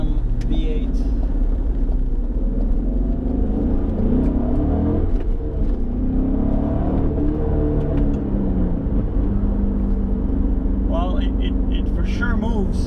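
A 2004 Cadillac CTS-V with a GM V8 accelerating on the street, a deep, steady engine rumble and droning rise heard from the cabin, with someone talking over it throughout.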